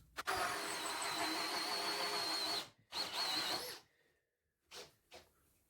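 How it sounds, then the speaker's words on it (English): A drill boring holes in wood for a tool holder, with two long, loud whirring bursts close by, followed by short brief spurts after a pause. "the first job on this holder was to drill out 2 holes where the trim routers would be sitting"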